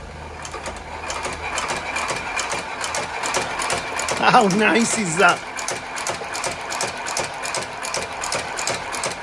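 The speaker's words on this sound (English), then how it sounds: "So I've just plugged the old sewing machine in, and the motor fired up straight away" A vintage shoe repair sewing machine motor runs steadily with a rapid mechanical rhythm throughout, while a person briefly speaks over it partway through.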